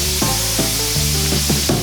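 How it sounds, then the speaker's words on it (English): Steady loud sizzling of shrimp and scallops frying in hot olive oil in a pan, with a few soft clinks or stirring taps along the way. "It should sizzle."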